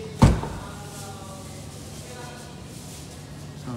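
A single loud thump as the rear boot of a 2021 Toyota Innova facelift 2.0 X is shut, followed by a quiet, steady hum of the surroundings.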